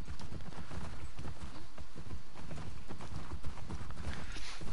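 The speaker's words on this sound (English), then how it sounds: "Giddy up, horsey" Horse galloping in The Last of Us Part II video game, a dense, steady drumming of hooves under continuous rumble and motion noise, close and loud throughout.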